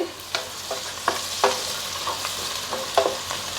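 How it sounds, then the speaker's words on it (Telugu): Onions fry in a covered pan for a prawn curry, a soft steady sizzle with a run of sharp scraping clicks as a spoon stirs at irregular intervals. "మూతేసిన ఉల్లిపాయ ఏగుతుంది"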